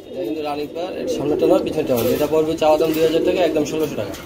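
Soft coos from yellow running nun pigeons run steadily alongside someone talking close by, the birds' low murmuring blending under his voice throughout.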